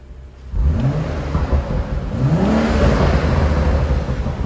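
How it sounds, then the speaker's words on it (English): A BMW M135i F20 with its standard exhaust rumbles loudly nearby, the engine note climbing through a couple of revs before settling into a deep, sustained drone with no talk over it. "giving you a little sound demonstration of a wonderful sounding car."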